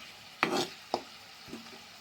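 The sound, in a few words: cut okra frying in pan with tomato and onion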